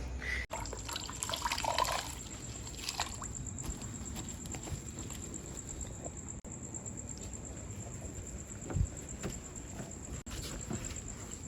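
Water from a bucket runs and splashes steadily at a moderate distance while a car is washed, a continuous wash with a few louder sloshes, no voices.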